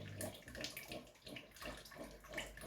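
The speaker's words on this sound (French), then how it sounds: "Je viens verser mon mélange dans l'eau chaude." A dorkounou mixture pours into hot water on a stovetop while being stirred, making a continuous watery splashing and swirling that rises and falls in steady pulses, close and moderately loud.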